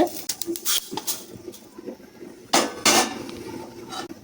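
Sesame seeds roast in a pan on a low flame for stuffed brinjal curry, with irregular clinks and scrapes of a spoon against metal and a couple of louder stirring bursts, close and without talk.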